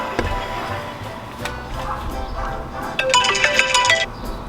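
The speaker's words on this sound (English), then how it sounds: "My alarm goes off on my phone." A phone alarm starts up partway through, a bright repeating electronic tone over a busy home-brewing session with steady background noise and occasional knocks.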